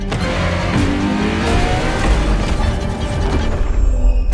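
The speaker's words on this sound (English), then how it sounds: "La Ferrari is the first Ferrari we have with an hybrid engine." A Ferrari LaFerrari hybrid engine revs hard in the video game The Crew Motorfest, a loud, sustained engine howl with rising and falling pitch as it climbs through the gears, with no talking.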